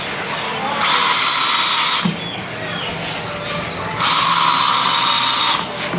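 A power drill whirs in two steady bursts while boring a hole for a screw in a modern bamboo-style hut build, a quieter handling stretch between them, close and loud over a faint background.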